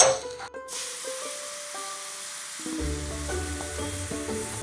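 Ingredients browning in a pan for a simple pizza sauce give off a steady, close hiss of frying that swells slightly partway through, with no talking.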